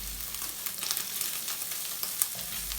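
Oyster mushrooms sizzle steadily in a pan of rendered pancetta fat, a close, continuous crackling fry with scattered pops and light stirring.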